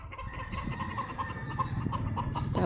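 Chickens cluck and murmur in coops on a rural farm lot, a soft, steady chorus of fowl at moderate distance over low background noise.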